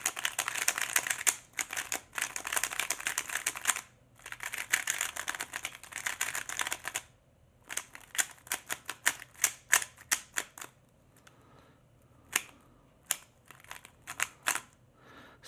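An RS3M 2020 speed cube being turned, giving rapid bursts of crisp, clacky plastic clicks close up, in several flurries with short pauses between them.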